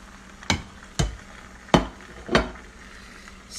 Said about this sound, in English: Stir it in gently.